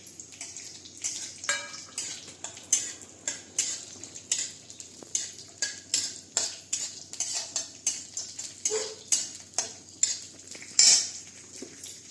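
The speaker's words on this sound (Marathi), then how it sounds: "तूप छोटं टाकलं ड्रायफ्रूट थोडं तळून घेऊ" Dry fruits fry in a little ghee in a metal pot, and a spoon clinks and scrapes against the sides in quick repeated strokes. A soft sizzle runs underneath the stirring.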